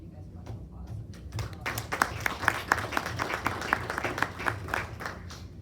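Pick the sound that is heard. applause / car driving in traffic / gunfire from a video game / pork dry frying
applause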